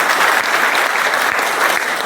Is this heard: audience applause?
yes